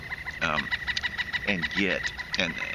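A rooster calls repeatedly somewhere in the background, several loud, ragged crowing and clucking bursts in quick succession.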